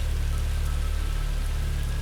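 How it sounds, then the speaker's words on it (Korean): Heavy monsoon rain pours steadily outside a late-night laundromat, a constant dense hiss of drops with a low rumble beneath it and no voices. "억수같이 쏟아지는 빗소리에"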